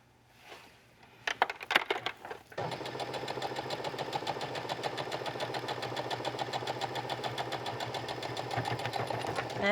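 A few handling knocks and taps come first, then a sewing machine starts a quick stitch on bathing suit pieces at the leg holes and hums steadily with a rapid needle rhythm, close and moderately loud.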